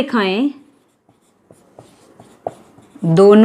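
Pen strokes of a class 10 maths solution being written out, a run of faint, quick scratches and taps sitting between stretches of a teacher's speech at the start and end.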